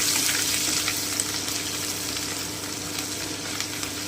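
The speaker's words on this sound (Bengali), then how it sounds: "এবারে আমি আদা ও রসুনের পেস্টটা দিয়ে দিচ্ছি আমি একটু নেড়ে নিচ্ছি" Ginger garlic paste frying and being stirred in a pan over low heat, a continuous close sizzle with a soft hiss and occasional light stirring scrapes, no voices.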